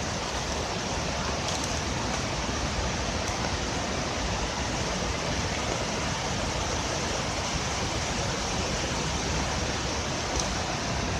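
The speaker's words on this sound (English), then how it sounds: "Vadachal waterfalls." Steady, dense roar of Vazhachal Falls in Kerala, broadband rushing water filling the whole stretch without pause, loud and close.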